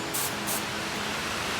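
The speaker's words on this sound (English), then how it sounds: "Now it's just spraying clear." An aerosol can of spray adhesive, held upside down to clear its nozzle, gives two short hissing bursts close by, followed by a steady, softer broadband hiss.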